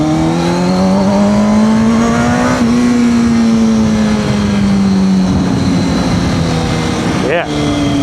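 A motorcycle accelerates hard through a car park, its engine note climbing steadily in pitch and holding loud and close for several seconds before easing off, with a voice briefly audible underneath.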